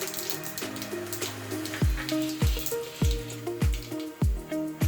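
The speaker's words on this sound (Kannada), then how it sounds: "ಸಾಸಿವೆ ಚಟಪಟ ಅಂತ ಸೌಂಡ್ ಆದಮೇಲೆ 1/4 ಸ್ಪೂನ್ ಅಷ್ಟು ಜೀರಿಗೆ ಹಾಕೋತಾ ಇದ್ದೀನಿ" Mustard seeds and cumin crackling and popping in hot oil, a steady run of sharp sizzling pops and spatters close by that grows busier toward the end.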